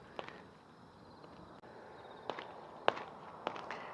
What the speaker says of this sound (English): look, there's fireworks.